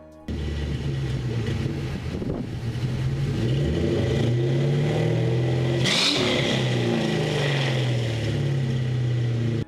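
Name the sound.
Mustang GT V8 engine revving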